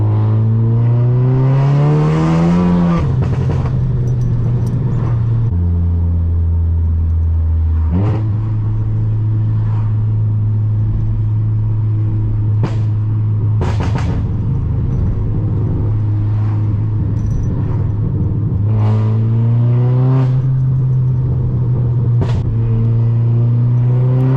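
A 500bhp VW Golf R engine drones loud and close from inside the car, rising in pitch through repeated accelerations with abrupt drops at gear changes, no talk.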